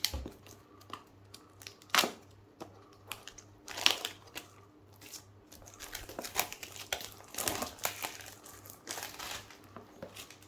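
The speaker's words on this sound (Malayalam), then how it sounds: "സോ നമുക്ക് ഡയറക്റ്റായിട്ട് അൺബോക്സ് ചെയ്യാം." Cardboard packaging of an iQOO 9 Pro smartphone being opened, with close crinkling, crumpling and tearing of paper and plastic in irregular bursts, a few sharper rips standing out over a quiet room with no talking.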